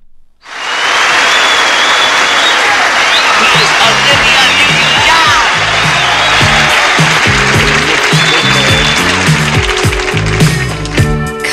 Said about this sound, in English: The crowd clapping.